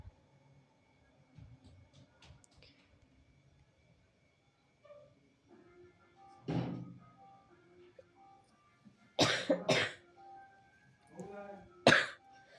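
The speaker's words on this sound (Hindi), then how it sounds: "थोड़ा सा स्वास्थ्य नहीं सही है, खांसी वगैरह आ रहा है" Several dry coughs burst out indoors, one around the middle and a cluster of two or three near the end with another just after, between stretches of quiet room tone.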